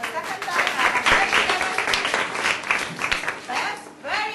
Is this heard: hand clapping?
yes